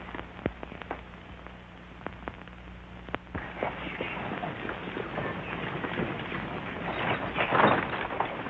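Horse hooves clop on hard ground in a western movie, starting as scattered beats and building into a steady, closer run with some commotion behind.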